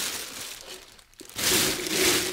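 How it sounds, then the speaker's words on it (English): Plastic bags crinkling as crystal singing bowls are wrapped one by one for packing into a case: steady close crackling, a brief lull near the middle, then louder, fuller rustling. "each one gets its own plastic bag so that I can take them in and out of the case easily"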